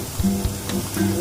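Spices with salt and turmeric frying in hot oil in a pan, a steady close sizzle with a few soft pops over a short moment.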